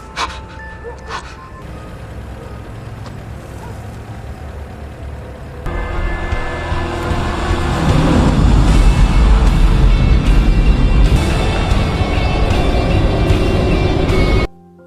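A car in a movie reverses hard, its engine revving up into a loud, roaring surge that builds and holds for several seconds before cutting off abruptly.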